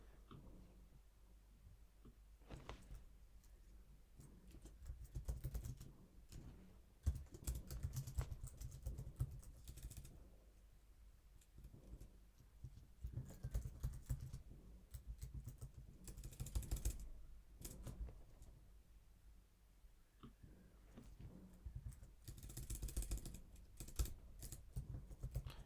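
Typing on a computer keyboard, quiet irregular bursts of key clicks with short pauses, close by and faint.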